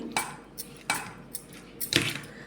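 Raw banana curry being mixed with squeezed lemon juice, a spoon scraping and clinking against the pot in a few distinct bursts, close and fairly quiet, with no one speaking.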